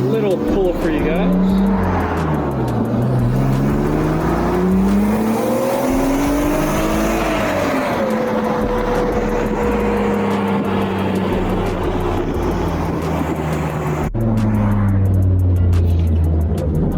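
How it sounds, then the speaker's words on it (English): Supercharged BMW E36 M3 pulling hard under acceleration, a steady loud engine note climbing in pitch with supercharger whine, then easing off and rising again near the end, heard from inside the car. "Maybe I'll do a little pull for you guys."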